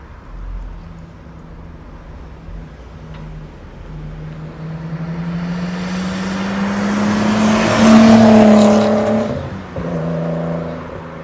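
A 1992 Nissan Skyline R32 with resonator delete approaches with a rising engine whine, roars loudly as it passes close by, then drops in pitch and fades as it drives away.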